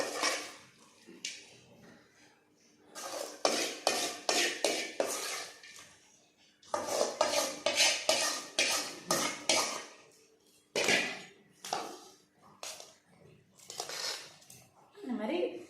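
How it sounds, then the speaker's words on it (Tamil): A spoon stirs a tempering of chana dal, urad dal, dried red chillies, curry leaves and asafoetida in sesame oil in a pan, giving close, intermittent scraping and clinking bursts with short pauses between strokes. "இந்த மாதிரி கொஞ்சம் நல்லா கிளறிக்குவோம்"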